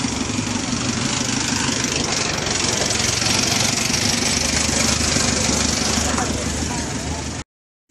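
A motorcycle engine runs steadily at close range during an earthquake in Pampanga, a low idling rumble with rough knocking texture that holds for about seven seconds before cutting off abruptly.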